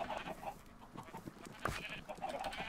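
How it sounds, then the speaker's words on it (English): A crowd of chickens on a Minecraft video game farm clucks and chatters in overlapping bursts, fairly faint and busy throughout, with a little talk mixed in. "there's so many chickens"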